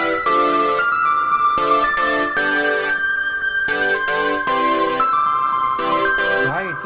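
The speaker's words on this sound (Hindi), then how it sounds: "ये है वो वाला प्रोजेक्ट जिसके अंदर हमने कॉर्ड प्रोग्रेशन और मेलोडी बनाई थी बहुत ही जल्दी में" A self-made beat plays: a sustained chord progression with a melody line on top, loud and continuous with short breaks between chords, and no voice over it.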